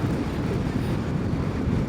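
Steady wind buffets the microphone beside the water on the Ring of Kerry, Ireland, a continuous low roaring rumble that fills the whole moment with no voices.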